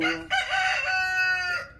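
A rooster crows loudly and close by in one long, drawn-out call with a sharp break near the start, ringing out alone without any talk.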